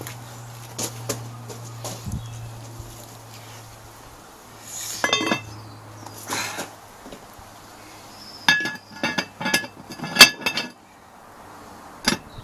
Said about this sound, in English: and I shall put the top on.